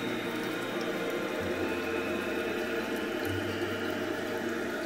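Water rushes and gurgles steadily from a dual flush toilet after a full flush, a continuous, fairly loud refill hiss with low churning tones, heard alone with no talk.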